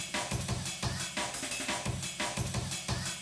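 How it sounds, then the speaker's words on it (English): Fast double kick drum pattern with paired low kick hits and snare strikes in between, looping tightly and loudly with no voices. "So that's a double kick."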